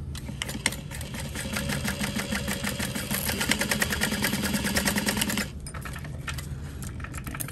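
Sewing machine stitching down a fabric wristlet, running steadily with a rapid, even mechanical patter for about five seconds, close by, then stopping abruptly into a quiet room.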